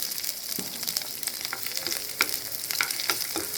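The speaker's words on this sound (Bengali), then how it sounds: "আমরা মরিচ পেঁয়াজগুলো ভেজে নেব, লাল করা পর্যন্ত ভেজে নেব" Chillies and onions frying in a pan over medium heat, a soft continuous sizzle with occasional scrapes and clinks of stirring, close and fairly quiet.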